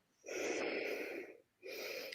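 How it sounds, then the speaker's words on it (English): Two long, deep sniffs of ginger through the nose, close to the microphone, the second shorter, with a brief pause between them. "I'm sniffing some ginger, which I love."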